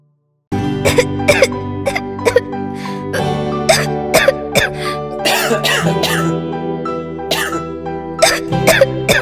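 Repeated coughing and throat clearing from a person, several sharp bursts spaced through the clip over a steady background music bed, close and fairly loud.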